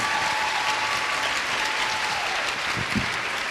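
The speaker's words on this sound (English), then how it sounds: "Ladies and gentlemen, another round of applause for Mike and our queen." A pageant audience at a dairy festival breaks into loud applause for the performers. The clapping is sustained and thick from start to finish.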